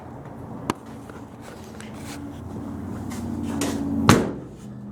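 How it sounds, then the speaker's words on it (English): A door on a 1929 Chrysler car shuts with a solid thump after a faint earlier click, heard nearby in a quiet garage with low background hum. "Door sure closes good."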